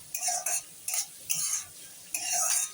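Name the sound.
cabbage, green beans and spring onions stir-frying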